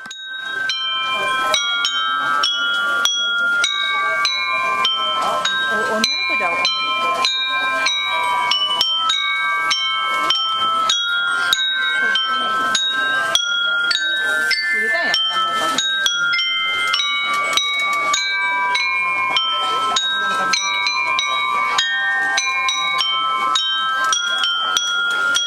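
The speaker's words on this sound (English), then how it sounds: "put together this pretty cool chimed instrument made out of china pottery" Clear, bell-like chimes of porcelain pottery ring out in a steady melodic run, bright struck tones overlapping and sustaining, played continuously with no talking at a pottery festival.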